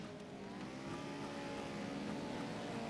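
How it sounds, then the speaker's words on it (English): Engines of 2-litre class race cars at a championship night race roar together in a steady, dense, continuous rumble, with no talk over them. "There's the engines."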